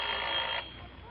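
A telephone bell rings in one short, bright trill that cuts off abruptly, leaving a low quiet tail, loud and close with no voices.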